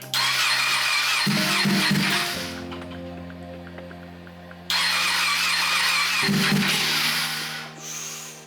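A wrecked Ducati 959 motorcycle being converted into a race bike tries to start, the starter cranking in short repeated bursts and the engine briefly catching with a steady hum between attempts, heard up close.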